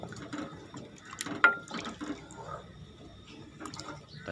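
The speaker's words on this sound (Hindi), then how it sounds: "थोड़ी देर फ्राई करने के बाद आप इसमें पानी ऐड कर देंगे।" Water splashes and sizzles into a hot frying pan of spiced gooseberries, a short loud pour followed by bubbling and crackling at close range.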